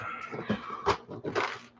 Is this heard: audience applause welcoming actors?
no